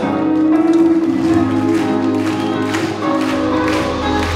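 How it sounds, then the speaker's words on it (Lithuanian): An audience at a concert held for a club's anniversary event claps steadily along with live music, with the applause blending with sustained instrumental tones. "Ar galim palaikyti plojimus čia?"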